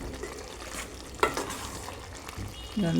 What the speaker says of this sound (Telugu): ఇప్పుడు కర్రీ అయిపోయింది. ఇలా కలుపుకోవాలన్నమాట.